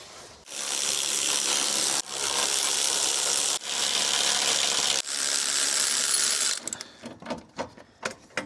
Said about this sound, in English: So let's get these bolts out.